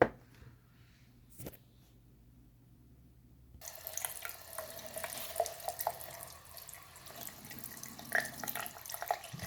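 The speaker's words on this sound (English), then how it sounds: "now I'm just gonna go to the sink and give this this little tray a wash, a rinse down" A small Honda Civic dashboard ashtray tray is rinsed under a running sink tap. A few faint clatters come first, then a steady, close hiss of flowing water with splashing as the tray is washed.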